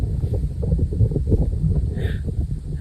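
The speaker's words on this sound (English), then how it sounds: "The wind." Strong wind buffets the microphone on the red cliffs of the Magdalen Islands, heavy low rumbling gusts close and loud through the brief stretch.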